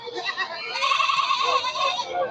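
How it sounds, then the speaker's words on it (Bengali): Black Bengal goats bleat repeatedly at a busy rural goat market in Bangladesh, a chorus of overlapping nasal cries close by, with people talking in the background. "কি সুন্দর সুন্দর ছাগল"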